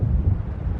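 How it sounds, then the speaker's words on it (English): Low, rumbling thunder from an approaching storm in the video game Alan Wake, a dense, muffled roll that fills the brief moment with no voices. "It seems there's a storm coming."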